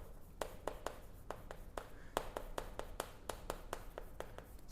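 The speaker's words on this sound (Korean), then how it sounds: "내가 왜 이 대목에다가 형광펜을 칠하고 있을까?" A highlighter marks lines on paper during a Korean reading lesson, with a faint, close series of quick scratchy strokes in an uneven rhythm and no talking.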